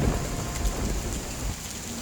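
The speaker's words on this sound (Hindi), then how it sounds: "देखते ही देखते बहुत तेज तूफान और बारिश शुरू हो गया" Heavy rain pours steadily with a deep rumble of thunder underneath, a dense, continuous storm roar with no voices.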